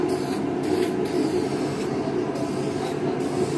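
A light coat of primer sprayed onto a car, a continuous close airy hiss holding steady throughout with only slight dips in strength, and no talking.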